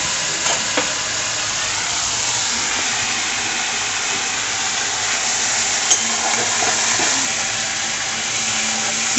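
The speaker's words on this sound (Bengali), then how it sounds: "জল দিলাম, না হলে লেগে যাবে মশলাটা" Water poured into a pan of frying spices with ginger, cumin, bay leaf and dried chili, giving a steady loud hiss and bubbling sizzle with faint stirring clinks, no talk.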